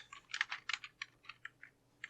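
Quiet, close keystrokes on a computer keyboard, about a dozen irregular taps in a short burst of typing, with no voices.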